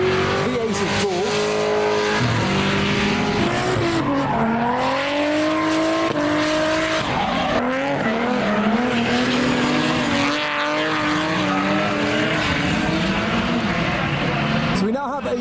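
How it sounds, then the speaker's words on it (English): Modified drift cars at a UK show, including a V8-swapped Nissan S15, revving hard with sweeping engine howls and tire squeal throughout, loud and close, with voices talking over it. "Oh, he's drifting off the course."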